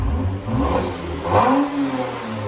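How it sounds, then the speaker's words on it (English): A 2022 Lexus ES 350 3.5L V6 with muffler delete revs up and settles in a couple of swelling, throaty exhaust pulls, loud and close throughout, with no voices. "2022 ES350 muffler delete."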